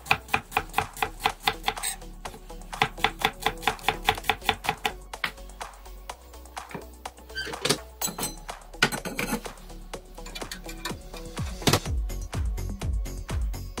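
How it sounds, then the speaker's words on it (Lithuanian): A knife slices an onion into half rings on a cutting board for Arabic-style maqluba pilaf, tapping out a fast, even run of sharp chops close up that turns looser and more irregular toward the end. "Susipjaustom svogūną pusiau žiedais."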